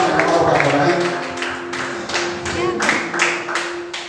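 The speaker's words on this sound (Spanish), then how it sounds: "Denle fuerte su alabanza y aplauso al Señor Jehová, a su nombre." A church congregation claps in praise during a worship service, a rhythmic, fairly loud burst of many hands in time under a sustained tone and voices, with periodic accented claps.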